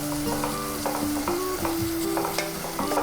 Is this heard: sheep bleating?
no